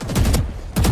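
Rapid bursts of gunshots in the video game Valorant, two loud clusters of close shots split by a brief pause.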